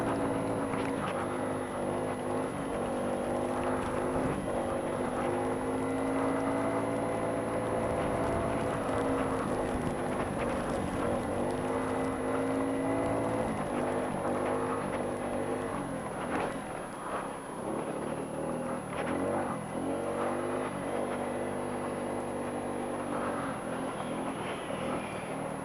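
A Honda Ruckus scooter rides through snow in a winter storm, its small engine droning steadily for the whole stretch under wind rumble, with slight changes in pitch as the throttle varies.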